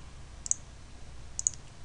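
A computer mouse clicks while building a Pong game in Game Maker: one crisp click, then a quick double click about a second later, quiet and close.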